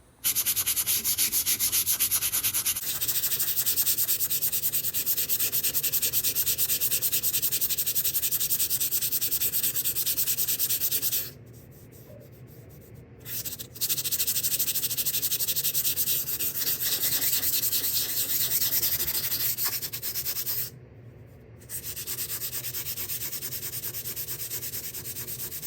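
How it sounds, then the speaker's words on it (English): Wood being sanded by hand with 150-grit sandpaper, a steady, loud, close-up scratchy rubbing that continues for most of the stretch, broken by two short pauses where the strokes stop. "I have to sand everything by hand."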